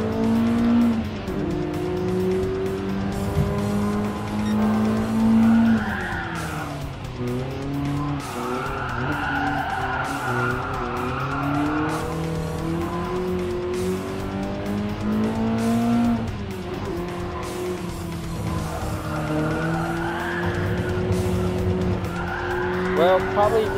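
BMW M3 Sport Evolution, the late-1980s sports car, racing and drifting in Gran Turismo Sport, with an engine note that holds and shifts steadily and tire squeal rising at intervals over a continuous game soundtrack.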